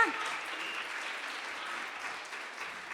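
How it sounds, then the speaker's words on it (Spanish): Steady applause from a crowd at an evangelical church service fills the whole stretch, a dense, even wash of clapping with no break. "Le vamos a dar un aplauso a la gente nueva."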